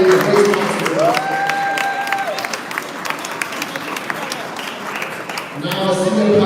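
Audience applause and some cheering at a Black History Month celebration in Brooklyn, loud and sustained, with voices heard over the clapping and a tonal sound near the start.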